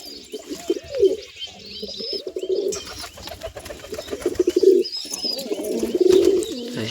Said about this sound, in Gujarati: આ બધા કબૂતર આપણે મસ્તીથી રમે છે.